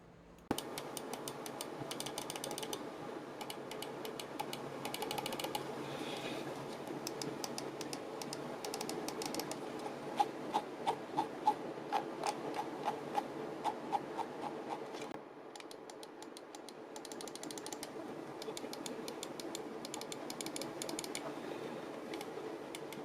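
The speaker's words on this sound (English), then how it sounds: "Time for the clicking test." Buttons on a Fantech Aria II computer mouse are clicked in quick, sharp taps, including a steady run of evenly spaced clicks, close up against a faint background hum.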